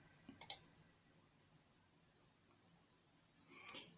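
Two quick mouse clicks land close together near the start, then a softer rustle of clicking follows a few seconds later, while the rest is quiet, with no talking.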